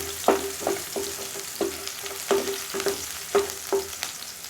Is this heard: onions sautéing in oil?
yes